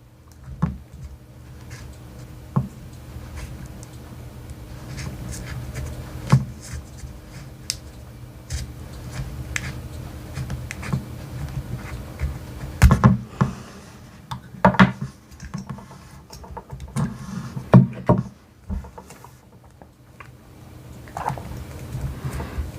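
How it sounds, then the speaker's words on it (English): Tape from a toolbox is unwound and a piece cut off, giving close, quiet crinkly rustles and scraping, with a cluster of sharp snips and clicks in the latter half and no talk. "you take the tape, and you unwind it, and then you cut a piece off."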